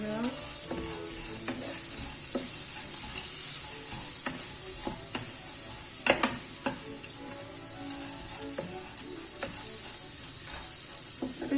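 Butter melts in a pot while a utensil stirs it, giving soft continuous sizzling with scattered scraping clicks and light metallic taps, all fairly quiet and close with no talk.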